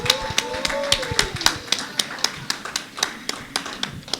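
Sparse clapping from an audience at a Brooklyn community board meeting, sharp individual claps in a loose uneven rhythm, with a voice briefly heard underneath.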